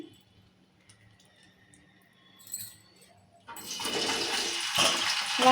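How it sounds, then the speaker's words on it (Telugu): Water splashes and squishes as bitter gourd is squeezed and wrung by hand, loud and close, following a quieter stretch with faint clinks. "వాటర్ ఎంత మంచిగా పిండేస్తే ఫ్రై తొందరగా అవుతుంది"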